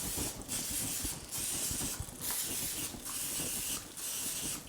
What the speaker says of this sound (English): this time, we're definitely not gonna forget the cooking spray